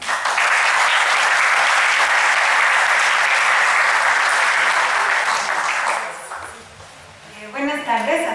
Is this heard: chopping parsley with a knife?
no